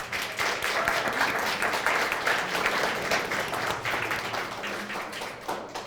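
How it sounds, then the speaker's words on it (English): A crowd applauds steadily for several seconds, a dense, even patter of many hands clapping at moderate distance. "give her a round of applause"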